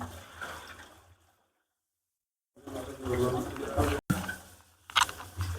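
Rice for kallappam batter gets washed by hand in a pot of water, giving splashy sloshing and swirling bursts broken by a silent gap, with someone talking over parts of it.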